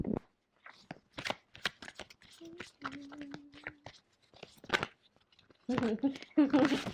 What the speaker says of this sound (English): So I'm going to shuffle here really quick